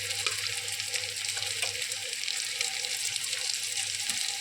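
Chopped onion, tomato paste and spices sauté in a pan, giving a steady, bright crackling sizzle close by that runs evenly through the whole short stretch without speech.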